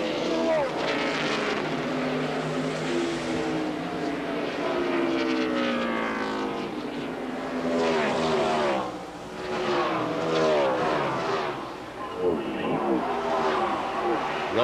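NASCAR stock cars race around Watkins Glen in the 2000 Global Crossing event, their engines droning continuously beneath an excited commentator who talks throughout.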